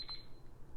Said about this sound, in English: Got an alarm going off.